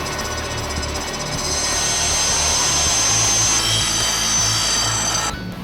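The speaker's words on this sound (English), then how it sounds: "We're going to run this through an upright bandsaw" Upright bandsaw cutting through steel pipe in a car workshop, a steady loud grinding whine with a continuous rasp that runs for several seconds, then cuts off abruptly near the end.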